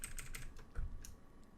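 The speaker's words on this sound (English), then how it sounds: "I'm holding shift so I can move it a lot with the arrow keys here" Arrow keys on a computer keyboard being tapped while shift is held, about half a dozen light clicks in quick succession, close and quiet, with no speech.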